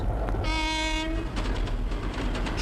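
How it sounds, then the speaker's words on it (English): A toy model train from a Hornby set sounds a loud horn blast that holds steady for about half a second, while rolling rail noise runs underneath and continues after the horn stops. "Trains."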